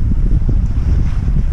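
Steady wind rushing across the microphone with the low rumble of a sailboat under sail at about 5 knots in a beam wind and light swell, constant and close, with no talk.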